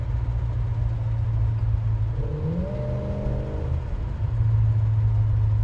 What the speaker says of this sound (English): Don't you love the sound of those secondaries on the 4-barrel open up?